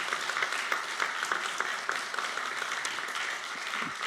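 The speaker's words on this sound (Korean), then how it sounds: "여러분 이때 박수가 좀 나와야 되지 않습니까?" An audience at an economic forum in Korea claps, a moderate, even patter of many hands at a distance, continuous for several seconds.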